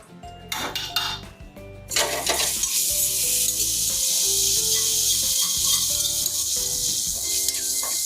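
Curry leaves and asafoetida hit hot oil for a tadka while making masala dosa, bursting into a loud, steady crackling sizzle after a few metallic clinks of a pan and spoon.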